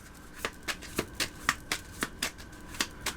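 Moonology oracle cards being shuffled by hand, a dozen crisp riffling slaps in a fairly even rhythm, close and clear with no talk over them.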